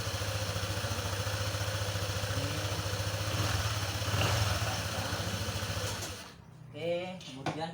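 A Honda ADV 150 scooter engine running at a steady idle, a close, even mechanical putter with a faint whine, then cutting out near the end to leave quiet clicks and light handling sounds.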